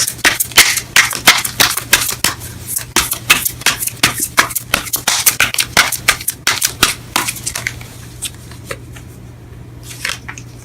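Tarot cards riffled and snapped in quick bursts of crisp, close papery clicks during a reading, the shuffling thinning out toward the end.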